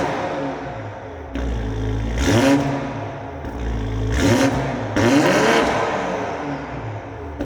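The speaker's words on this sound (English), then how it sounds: "my favorite mod on this car, an HKS catback. Just have yourself a little listen" A tuned 2020 Toyota Supra with an HKS catback exhaust revs repeatedly, three sharp blips rising and falling over a deep idling rumble, loud and close with a raspy edge.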